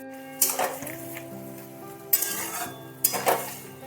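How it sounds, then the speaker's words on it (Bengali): Boiled potatoes and beetroot tipped into a hot spice tempering with green chillies in a pan, giving three bursts of sizzle as they hit the oil, with spatula scrapes and stirring between them. "এবার সেদ্ধ করে রাখা আলু আর বিট ঢেলে দিলাম ফোড়নের"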